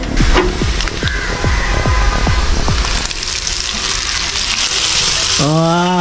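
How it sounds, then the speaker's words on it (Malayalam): Loud, steady sizzling of mustard seeds frying in hot oil for tempering, with a series of sharp pops and clicks early on and a metallic scrape near the end. "പാൽക്കപ്പയ്ക്കുള്ള കടു വറുത്ത് നമ്മൾ ഇനി ഒന്ന് താളിച്ചു കൊടുക്കാം"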